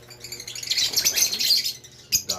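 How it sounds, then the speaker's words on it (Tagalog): Many small birds chirping and tweeting together in an aviary, a dense bright chatter close by, with a couple of sharper calls standing out near the end. "mga kaibon, no?"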